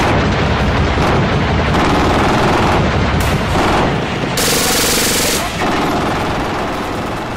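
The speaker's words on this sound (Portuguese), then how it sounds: "Por causa do som único que a MG-42 tem, ela foi apelidada de a Serra Elétrica de Hitler." MG-42 machine gun firing in long, extremely rapid bursts, a dense tearing roar that runs almost without pause, loud and close, with brief breaks between strings of fire.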